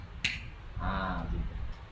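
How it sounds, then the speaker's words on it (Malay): A single sharp slap of the right palm onto the back of the left hand, brief and crisp, with faint room noise and a soft murmur afterward. "disunatkan tepukkan tapak tangan kanan atas belakang tangan yang kiri"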